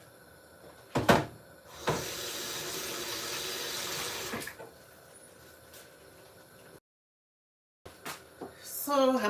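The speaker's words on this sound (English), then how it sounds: "Just adding some water." Water runs from a tap in a brief burst while cooking tomato stew at home, with clinks and knocks of kitchen items around it and a short gap of silence near the end.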